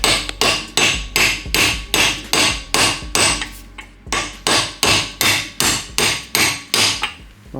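A large mallet strikes metal with steady, forceful blows, about two per second, loud and close, during reassembly work on a Renault 4L after sandblasting and greasing. No voices accompany the hammering.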